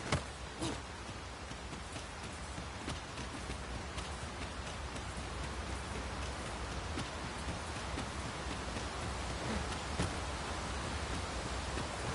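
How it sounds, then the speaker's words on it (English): Steady rain falling in an outdoor game scene, a dense even hiss of drops throughout with no gaps or voices. "It started raining"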